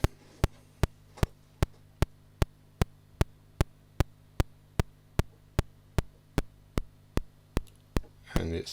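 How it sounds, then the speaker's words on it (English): A DIY passive modular synth bass-drum-ish voice ticks out a steady train of sharp, evenly spaced clicks about every 0.4 seconds, alone over a low mains-like hum. "And then we have the drum, bass drum-ish, which sounds like this."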